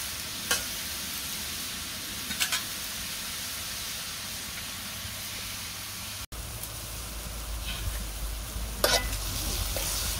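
Curry bubbling in a pan on a village stove, a steady close sizzle and simmer with occasional stirring scrapes, continuous throughout with no talking.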